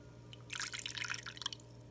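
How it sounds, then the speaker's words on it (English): Buttermilk is poured off freshly churned goat milk butter. It makes a soft, close trickle and splashing of liquid for about a second over quiet background hum. "So just pour out"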